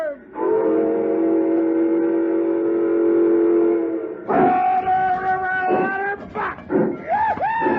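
A steam locomotive whistle in a 1958 radio drama sounds one long, loud sustained blast, then a series of shorter wavering toots and bends, with no voices over it.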